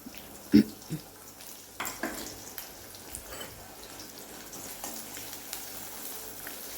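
Chopped onion and ajwain frying in a pan over a medium flame, a faint steady sizzle broken by a few soft clatters and stirring knocks, no voices.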